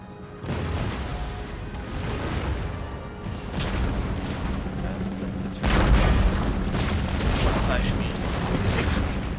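Troops fire volleys in a historical strategy game, heavy booming shots and rumbling blasts packed closely together, growing louder near the end.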